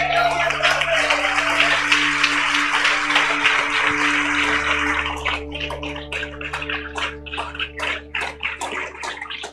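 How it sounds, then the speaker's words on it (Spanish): A church congregation bursts into loud, dense applause that thins after about five seconds into scattered individual claps, while sustained keyboard tones continue underneath. "¡Aplausos!"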